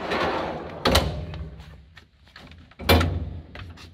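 Henchman toolwagon drawer holding spanners, slid open on its runners with two sharp thunks and a rattling glide between them, loud and close.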